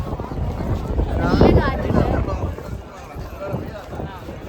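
Strong wind blows outdoors on a sunny day and buffets the microphone in gusty, rushing swells that peak midway. It happens during a road trip from Ernakulam to Coimbatore, and a voice may be faintly present underneath.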